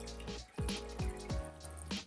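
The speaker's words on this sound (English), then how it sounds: "Pour a half a cup of distilled white vinegar into the drain line." Distilled white vinegar poured into an air conditioner's condensate drain line, giving liquid splashing and trickling sounds in several short pulses, close and moderately loud.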